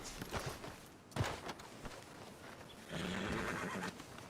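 A horse whinnies in Red Dead Redemption 2 in a few bursts, followed by a longer snorting neigh, with faint hoofbeats and ambient noise behind it.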